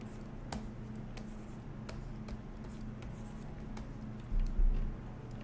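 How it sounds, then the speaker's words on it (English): A loud computer keyboard is typed on during a 3D texture painting session, sparse sharp clicks at uneven intervals over a low steady hum, close and alone. "Yeah, sorry, my keyboard is loud."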